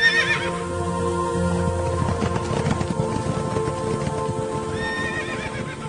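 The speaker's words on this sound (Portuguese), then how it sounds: "O primeiro carro era puxado por cavalos vermelhos, o segundo por cavalos pretos, o terceiro por cavalos brancos" Horses drawing war chariots whinny loudly at the start and again near the end, while steady clip-clopping hooves and a low rumble run throughout.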